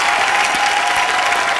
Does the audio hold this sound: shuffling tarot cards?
no